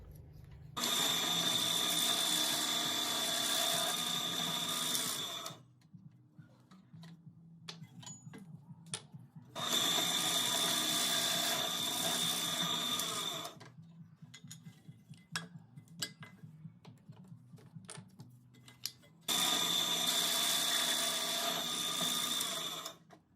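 Hole saw boring into wood to make a toy car wheel, heard as three sustained high-pitched whirring bursts of several seconds each, separated by quieter pauses with faint clicks.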